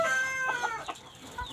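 An Ayam Cemani chicken with ordinary plumage clucks softly a few times in a pen, close and faint, over a steady background hum.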